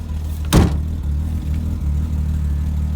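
A 1989 BMW 325iS E30 engine idles while warming up, giving a low, steady rumble close by. A short sharp knock or clunk sounds near the start, and no one speaks.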